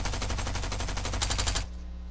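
Video game machine pistol fire lets loose a rapid unbroken stream of shots, loud and close, emptying a magazine in about a second and a half before cutting off to a low hum.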